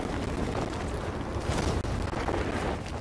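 A fire blazing at a fire station in Batman: Arkham Knight, a steady loud roar of crackling flames filling the scene without pause, no talk.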